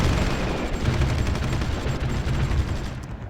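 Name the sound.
artillery fire in Supreme Ruler Ultimate video game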